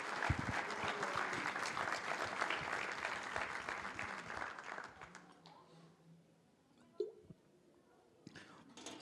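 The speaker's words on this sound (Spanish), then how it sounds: "Un fuerte aplauso al Señor." A church congregation applauds loudly after a sermon, dense clapping that holds for several seconds and then fades out, leaving a quiet room with a few scattered sounds.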